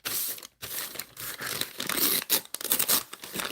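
Paper being torn by hand while making a 4x6 junk journal, a series of close, loud ripping strokes with crinkling between them and a brief pause early on.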